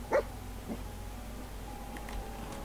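Dog companion in Fallout 4, giving one short bark near the start followed by a fainter yip and a few soft sounds against a quiet, steady game background.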